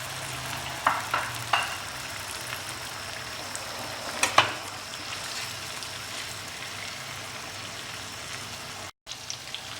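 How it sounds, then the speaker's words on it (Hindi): Rohu fish shallow frying in a pan, a constant low crackling sizzle with a few faint spatters and pops, steady and moderately quiet throughout, cut by a brief dropout near the end. "इसे शैलो फ्राई करेंगे।"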